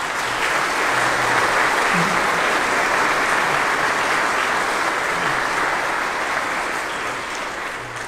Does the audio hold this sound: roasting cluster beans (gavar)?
no